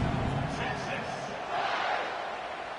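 Stadium crowd roars and cheers steadily in a college football video game after a scoring drive, as a Texas versus Oklahoma State matchup continues; the broad crowd noise stays loud and sustained throughout, with no talking.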